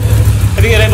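Harley-Davidson Street 750 motorcycle engine, a loud deep rumble that rises as it revs, with people talking over it.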